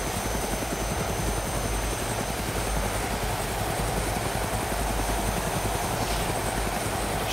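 A helicopter in the video game DayZ runs with a loud, steady rotor chop and engine roar that stays constant and close throughout, with no voices heard.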